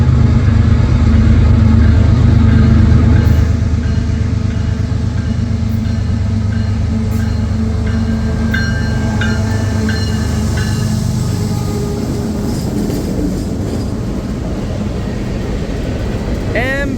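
A CSX mixed manifest freight train rolls past on the near track in afternoon light, a loud continuous rumble of wheels and cars with rhythmic clatter and a brief high squeal near the end, holding steady throughout.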